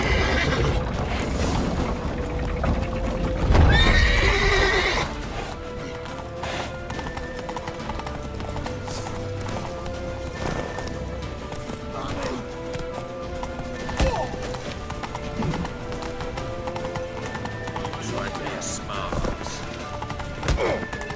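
Hooves clip-clop steadily while a horse whinnies loudly early on, amid busy background commotion and music.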